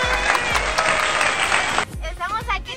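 Applause for a guest in Santiago rings out loudly for nearly two seconds, then cuts off abruptly, leaving quieter background noise with a voice-like sound.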